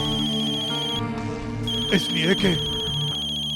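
A telephone rings in a domestic drama scene, its repeated electronic trills running under background music while people speak over it.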